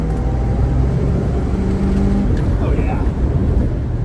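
A 1964 Dodge Dart with a swapped 5.9 Magnum V8 drives along, its steady loud engine drone and road rumble heard from inside the car, with a brief spoken exclamation.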